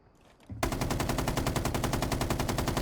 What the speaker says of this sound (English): For Capital, I've been using the LMG, actually.